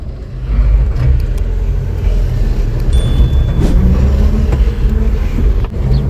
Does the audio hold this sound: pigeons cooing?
no